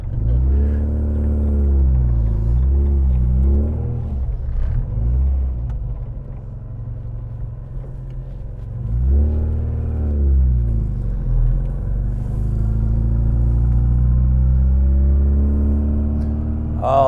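A car engine rumbles deep and loud, revving up and down in repeated swells before settling into a steady idle, close by with no voices.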